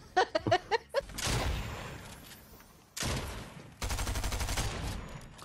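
Gunfire in Fortnite, with short rapid bursts of shots separated by pauses, close and loud, following a few brief sharp pops at the start.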